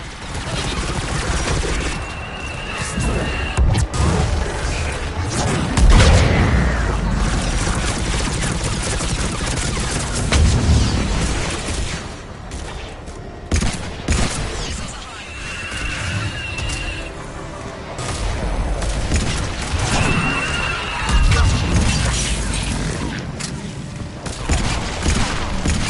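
Missile strikes and heavy gunfire from Mass Effect 3 combat, dense sustained bursts of shots and booming blasts with chaotic crashes, loud and continuous, with voices now and then.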